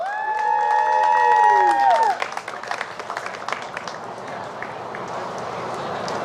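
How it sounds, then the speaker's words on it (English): Audience clapping and cheering for a national anthem singer at an event; tonal sounds ring out at first, then a crowd's applause carries on, gradually thinning and fading toward the end. "Please give her a round of applause."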